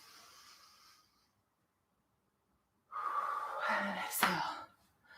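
A deep yoga inhale during a morning energizing flow, heard as a close, breathy intake that swells loudly for about two seconds after a quiet pause, following a fainter earlier breath.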